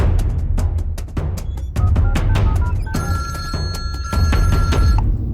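A telephone bell rings in repeated bursts, loud and close, with short gaps between rings and no talk over it.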